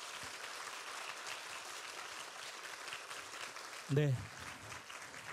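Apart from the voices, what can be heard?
audience applause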